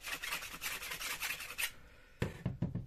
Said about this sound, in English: I'll just give it a quick sand, get files to